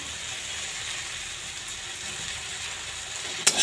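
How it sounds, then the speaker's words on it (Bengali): Okra frying in a pan gives a steady, even sizzle throughout, with a short sharp clatter near the end as chopped onion goes in. "পেঁয়াজটা দিয়ে দেবো দিয়ে ভেজে নেব"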